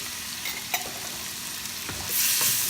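Tomatoes cook in a pan, sizzling steadily while a utensil scrapes and stirs with a few soft knocks, close and alone, and the hiss swells near the end.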